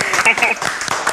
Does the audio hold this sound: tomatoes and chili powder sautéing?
no